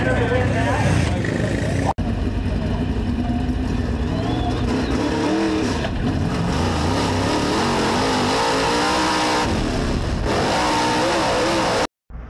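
Dirt late model race car at Boyd's Speedway, its engine roaring loud and continuous with rising and falling revs, accompanied by broadband track noise; the sound briefly cuts out near the end.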